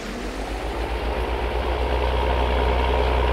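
Case International 3588 tractor engine idling, a steady low diesel rumble with a faint rhythmic throb, close and continuous, no talk over it.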